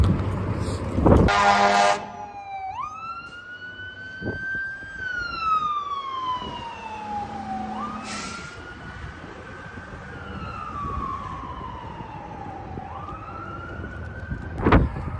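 A police siren wails in long rising and falling sweeps, loud and fairly close, with sharp horn blasts at the start and end.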